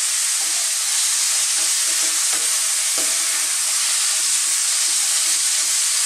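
Sardines sautéing with misua and patola in a pan give a loud, constant hissing sizzle close up, with faint stirring scrapes underneath and no talking.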